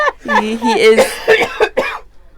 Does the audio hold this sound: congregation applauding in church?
no